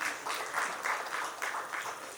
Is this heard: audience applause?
yes